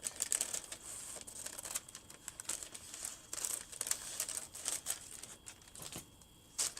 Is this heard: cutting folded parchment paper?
yes